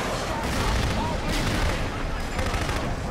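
Dense, continuous gunfire and explosive crackle from the Killzone 2 shooter, loud and close, a steady barrage with no pauses across the short stretch.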